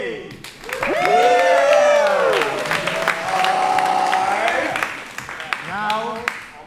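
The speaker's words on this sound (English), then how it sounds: "Let's have a round of applause." A live audience applauds and cheers, with clapping and whoops mixed into loud crowd noise while voices shout and talk over it.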